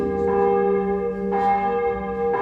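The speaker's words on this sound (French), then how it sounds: "Alors je vais laisser les cloches sonner, parce qu'on ne peut pas faire de la concurrence aux cloches." Church bells ring loudly and close during a Sunday Mass, overlapping strikes sounding one after another with a sustained, humming resonance.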